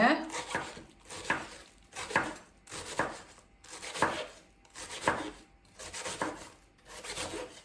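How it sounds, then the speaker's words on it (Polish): A knife shreds a halved head of Napa cabbage on a board in a home kitchen, giving about eight steady, evenly spaced crunchy chopping strokes, close and moderately loud with no talk over them. "Kapustę sobie szatkujemy."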